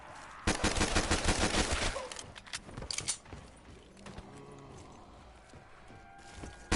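Gunfire in a zombies video game starts as a loud, rapid automatic burst, then gives way to a few separate shots and mechanical clicks that fade into quieter background noise.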